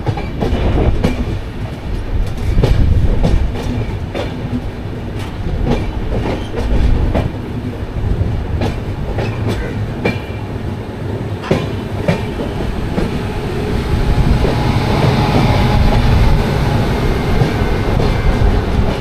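The Kantabanji Ispat Express rolls along the rails near Santragachi Junction, loud and close, with rhythmic clickety-clack wheel beats, rattling carriages and occasional squeal.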